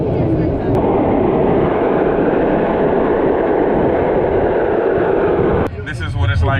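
A crowded small passenger train runs through northern Poland, filling the carriage with a loud, steady rumble and roar. It briefly drops and shifts near the end as nearby voices break in.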